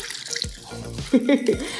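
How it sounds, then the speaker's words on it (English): A kitchen mixture for an Instant Pot or slow cooker freezer meal is poured into a plastic freezer bag, giving a short, close, wet glugging and sloshing sound. "we're just gonna pour this into a freezer meal bag too"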